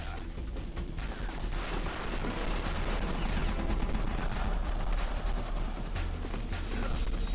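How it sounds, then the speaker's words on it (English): Gunfire in the video game Metal Gear Solid: The Twin Snakes, a dense, continuous barrage of rapid shots over rumbling effects, loud and unbroken. "you should be able to dodge the gunfire from behind while you rappel down"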